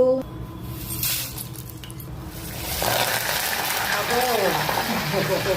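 Curry leaves and spices temper in hot oil, crackling and sizzling steadily after a quieter start, with a voice talking over the frying.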